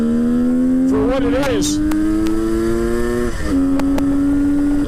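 A Kawasaki H2 750 motorcycle engine revs hard and steadily climbs in pitch while riding, loud and close with a brief gear-shift dip. A rider speaks briefly over the engine.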